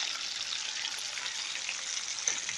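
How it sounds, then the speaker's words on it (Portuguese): Garlic, onion and bell pepper sauté in margarine in a pan, giving a close, steady bright sizzle that runs unbroken with no talking. "Já vou botar para refogar"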